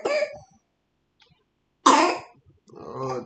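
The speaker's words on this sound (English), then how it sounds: "Oh, that little cough." A single cough bursts out close to the mic, with brief voice sounds before and after it against an otherwise quiet background.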